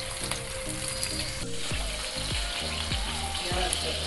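Beef galawati kababs frying in oil over medium heat give a steady close sizzle with bubbling crackle, and a few soft low thumps mark them being moved in the pan.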